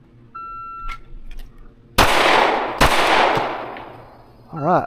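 Two loud, sharp pistol shots from a Fusion Firearms XF Pro during a Psalms 144 shooting drill, spaced under a second apart, each with a ringing decay, followed by a brief electronic timer beep.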